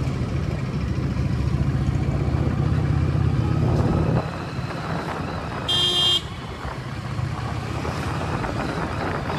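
A Harley-Davidson Street 750 motorcycle engine hums steadily while riding, wind buffeting the microphone, and a brief horn toot sounds partway through.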